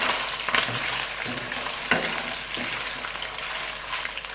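Boiled beef added to a hot karahi sizzles and fries steadily, a continuous crackling hiss with a few louder bursts as the meat is stirred.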